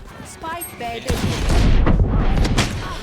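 Gunfire in the video game Valorant breaks out after a short quiet stretch: a burst of shots and booming impacts, then rapid fire continuing close and loud, with players talking around the shooting.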